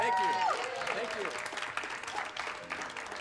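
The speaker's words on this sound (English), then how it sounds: "Let's give a nice round of applause." A Wheel of Fortune studio audience claps in a steady, dense round of applause that slowly tapers off, while a voice speaks over the start.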